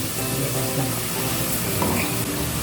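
Cumin seeds and two cardamom pods sizzle and crackle in hot oil, a dense, steady frying hiss that continues throughout with faint stirring.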